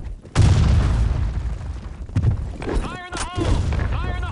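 Grenade blasts in the video game Ruyi Bang give a heavy low boom that opens the clip, followed by another thump and then a rumbling aftermath. Shouting voices run over the blasts.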